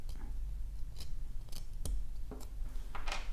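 Snips or cutters trim excess plastic from a part while building an Infinity IF18-2 two-speed model car, giving sharp isolated clicks and snaps at irregular intervals over a faint rustle of handling, close up with no talking.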